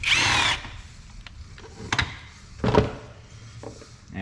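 A power tool runs in a short loud burst at the start while removing an 8mm bolt on a 2003 Ford Crown Victoria during radiator hose work, followed by quieter clanks and handling noises.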